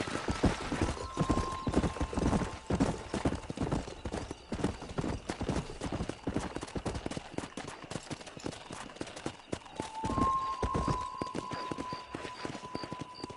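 A horse gallops in Red Dead Redemption 2, with rapid steady hoofbeats running for the whole stretch, close and loud, under game music with a couple of sustained tones.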